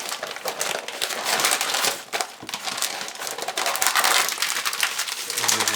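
Butcher paper crinkling and crumpling as roast beef is rolled up and wrapped tightly, a steady close papery rustle with sharp crackles throughout.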